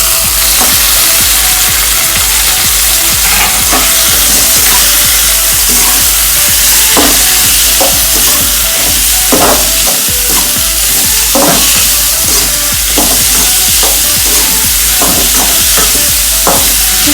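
Okra and cabbage stir-fry in a pan, a loud continuous sizzle with repeated scraping and knocking strokes of the spatula throughout.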